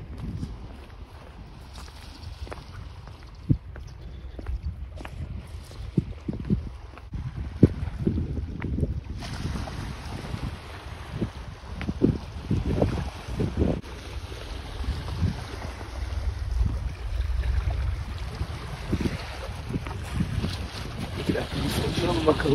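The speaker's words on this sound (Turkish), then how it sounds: "Şu dalgaların sesini dinleyeceksin." Sea waves wash against the shore at Suomenlinna fortress in Helsinki, a continuous surging roar with gusty wind buffeting the microphone and irregular splashes rising and falling.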